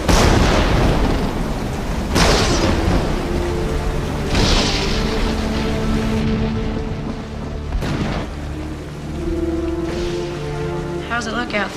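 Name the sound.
thunderstorm with thunder, wind and rain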